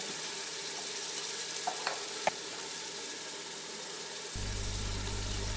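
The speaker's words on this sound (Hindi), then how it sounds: "हरी मिर्चों को प्याज के साथ हम तलेंगे।" Green chillies and onion frying with ginger garlic paste in a pan for sarson ka saag give a soft steady sizzle, broken by a few light stirring taps, before a low hum joins in near the end.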